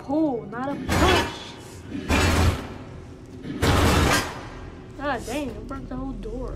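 Three heavy crashing bursts of a door breaking apart in the video game Bendy and the Dark Revival, loud and long, interspersed with a voice talking.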